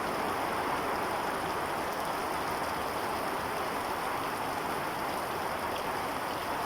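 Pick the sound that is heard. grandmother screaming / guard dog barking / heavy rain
heavy rain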